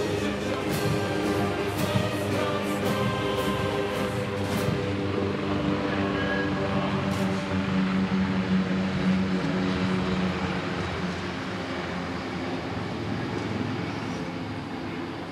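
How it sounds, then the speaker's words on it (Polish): Military helicopters, including light PZL Kania-type training helicopters, fly over a Polish Armed Forces Day parade in 2014, a continuous loud rotor and engine roar with crowd noise, steady throughout with no talk. "Lekkie śmigłowce przeznaczone do szkolenia pilotów."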